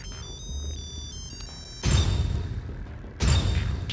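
A phone rings with a bright electronic ringtone, its repeating tones running behind a dim background scene before two heavy impacts land, masking the ringing.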